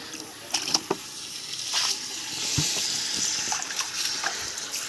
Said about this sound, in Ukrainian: Водички наляю.